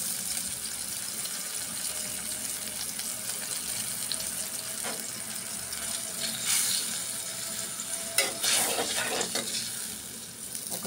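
Shrimp sizzling in a hot pan with salt and a splash of water, a steady hiss with a few stirring scrapes and brief louder bursts near the end.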